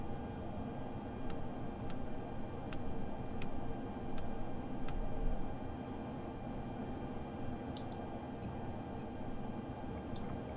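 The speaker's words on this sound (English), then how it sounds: "That's that famous sound of fuel pumps." A low, steady mechanical whir of aircraft fuel pumps runs throughout, with a series of regular sharp ticks near the start and a few more later, no talking.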